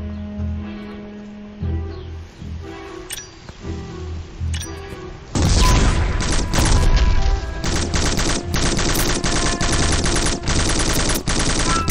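Gunfire and grenade explosions in the shooter game Black: sparse shots and clinks at first, then a loud, dense burst of automatic fire with sharp repeated cracks and booming hits for the rest.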